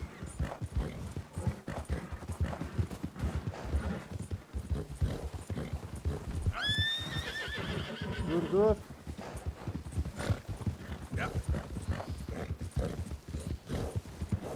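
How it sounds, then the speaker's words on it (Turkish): Hooves clip-clop in a fast, steady rhythm as a white Arabian horse gallops in Red Dead Redemption 2, broken midway by a short, high, shrill whinny, while someone talks excitedly over the action. "Kankam yakalamamız lazım o atı"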